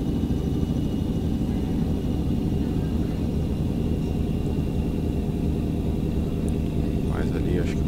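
A truck engine in Euro Truck Simulator 2 drones steadily on a winding mountain road climb, a constant low rumble that stays loud and unbroken throughout.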